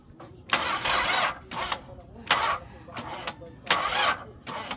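Several repeated bursts of a car engine cranking on a jump starter, each broad roaring surge lasting about a second with short gaps between, close and loud.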